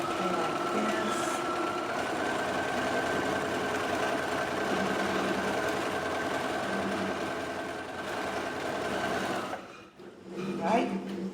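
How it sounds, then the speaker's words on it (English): A sewing machine runs steadily as it stitches a zigzag seam finish, its close, even mechanical hum and needle chatter going for several seconds before stopping, followed by brief talking. "we're just going to zigzag the length of the seam"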